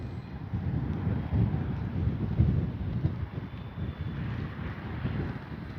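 Steady wind buffets the microphone with a constant low roar, loud and close, with no talking, at a radio-controlled model airplane flight.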